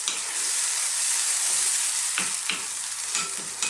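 Tomatoes, cream and a generous amount of cheese are mixed together in a pan, giving a steady close hiss with a few sharper scraping strokes of the spoon toward the end.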